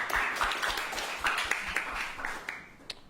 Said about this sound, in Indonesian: Tepuk tangan yang Gemini dong.